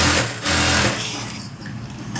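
A sewing machine stitches a lace border onto blouse lining in a quick close whir that slows and fades off after about a second.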